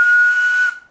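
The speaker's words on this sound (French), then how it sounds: "Et au coup de sifflet" A sharp, steady whistle blown once during a CB radio modulation test on a Président Texas 1800 set, holding a single high tone for under a second before cutting off.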